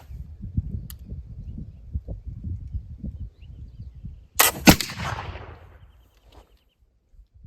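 A single sharp, loud blast of homemade sodium nitrate black powder being fired, with a short fading tail. It stands out over low, gusty outdoor rumble and is followed by near quiet.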